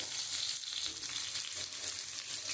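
Potato, pointed gourd and spiny gourd pieces fry in hot oil in a pan as spices go in, with a continuous loud hiss and crackle throughout and no voices.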